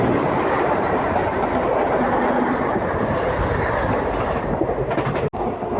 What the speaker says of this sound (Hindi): और सामने से लोकल ट्रेन